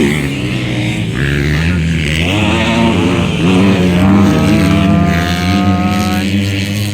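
Small-displacement 250-class racing motorcycles scream past on a local track in Lantapan, Bukidnon, several engines overlapping with rising and falling whines as they accelerate and shift, loud and continuous.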